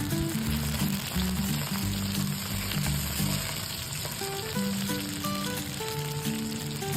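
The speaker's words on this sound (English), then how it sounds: "Heat some oil in a wok or pan, and once it's hot, toss in the onion and ginger." Onion and ginger sizzle and fry in hot oil in a wok, a steady close crackling hiss that runs throughout, with soft background music underneath.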